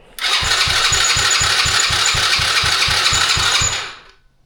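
A carbureted four-wheeler engine fires and runs for about three seconds, loud and close, with an even pulsing chug before it cuts out and fades. No one speaks.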